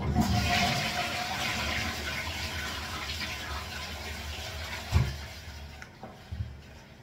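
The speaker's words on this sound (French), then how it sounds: "je tire la chasse" A wall-hung toilet with a newly replaced SIAMP dual-cone seal is flushed: a loud rush of water that gradually fades into a gentle refill trickle, with a couple of small knocks near the end.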